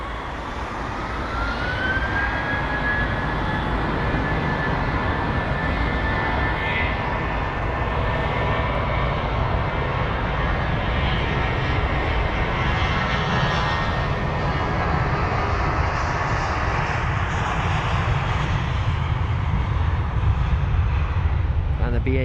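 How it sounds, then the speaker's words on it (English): A British Airways Airbus A320-200 departs Heathrow for Glasgow, its jet engines giving a loud, steady roar with a rising whine that holds throughout, mixed with broadband airport noise and a faint siren-like tone. "And the BA 320-200 off to Glasgow it goes."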